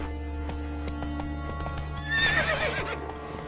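Geralt's horse Roach from Witcher 3 gallops with steady rhythmic hoofbeats under a constant low game drone, then whinnies loudly about two seconds in, the neigh rising and trailing off close by.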